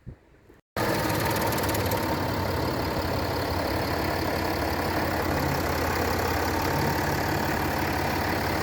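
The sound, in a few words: V6 diesel engine idling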